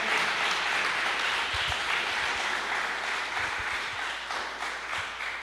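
A church congregation at a Sunday celebration service applauds, a dense, steady wash of clapping that carries on for several seconds and eases slightly toward the end, with no voices over it.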